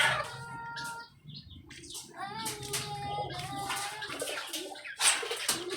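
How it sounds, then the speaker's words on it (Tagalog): A pigeon takes off with a flurry of flapping wings, among scattered coos and chirps from nearby birds and quiet background voices. "Yun, lumipad."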